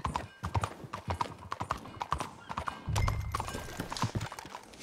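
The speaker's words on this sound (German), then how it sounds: "wir steigen ja auf unser Pferd" Horse hooves clip-clop in a brisk, uneven rhythm on a hard surface in Red Dead Redemption 2, fairly close, with a brief low snort partway through.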